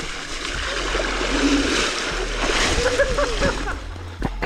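An electric off-road scooter, a Boyueda, plows through deep water, with a steady rushing splash and sloshing wash throughout, loud and close, while a rider talks over it.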